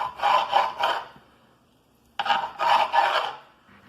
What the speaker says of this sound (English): I love the sound this cutting board makes, don't you?